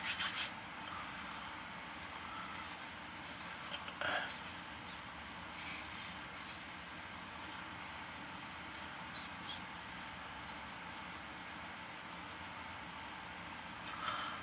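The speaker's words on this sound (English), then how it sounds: "Rub it again, stick in your beard." Hands rubbing aftershave into a beard make a steady, close, soft brushing and scrubbing sound that continues throughout at an even level.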